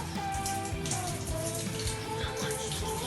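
Warm water poured into a glass makes a steady, close splashing wash with a trickling texture that runs without a break.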